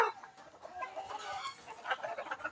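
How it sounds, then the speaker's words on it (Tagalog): A laying hen clucks softly and repeatedly at close range, with low, irregular murmuring calls in quiet farmyard surroundings. "Ito ang ating isa pang inahin na pwede nating paitlogin."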